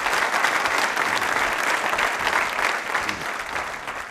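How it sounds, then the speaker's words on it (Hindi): A university quiz show audience breaks into sustained, dense applause, steady and full throughout with no voices over it. "तालियां बजाइए इस संकल्प के लिए"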